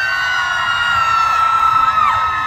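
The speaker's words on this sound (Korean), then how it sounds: "함성도 한번 질러보세요." A crowd at an outdoor winter dried-persimmon festival concert in Hamyang, Korea, shouts and cheers for a singer. It is a loud, sustained roar with high whoops and yells that carries through the whole stretch.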